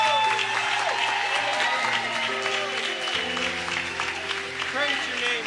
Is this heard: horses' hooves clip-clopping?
no